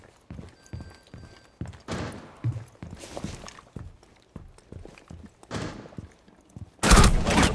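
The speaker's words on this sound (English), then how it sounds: "I'm shooting at Benham." Rapid gunfire in the tactical shooter Rainbow Six Siege, volleys of sharp, loud shots in quick bursts with brief pauses between, ending in a dense, harsh burst of noise.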